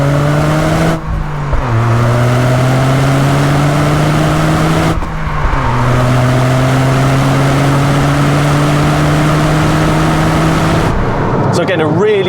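A Toyota GR Yaris fitted with an HKS Super Turbo Muffler drops a couple of gears and accelerates hard. The loud, deep engine note climbs through repeated rising sweeps, broken by brief gaps at shifts, with a voice talking over it.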